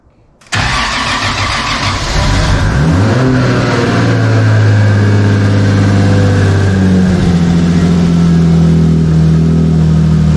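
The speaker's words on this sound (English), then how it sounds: "One more crank here, see if we're seeing RPM." A car engine cranks, catches and revs while being readied for a tune, turning over loudly before settling into a steady low rumble with rising and falling revs, close and continuous with no talking.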